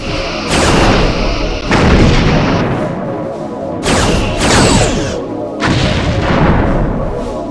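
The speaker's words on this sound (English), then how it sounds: "you're gonna get some quantum torpedoes" Quantum torpedoes fire in the Star Trek: Bridge Commander space combat game, as four loud, heavy booming blasts about 1.5 seconds apart, each decaying into a rumbling roar.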